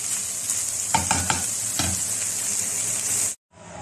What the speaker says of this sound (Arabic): دايما شوحي اللحمه قبل البصله عشان خاطر ما تنزلش ميه